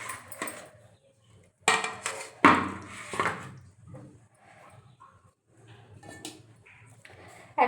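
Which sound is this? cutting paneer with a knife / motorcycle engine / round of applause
cutting paneer with a knife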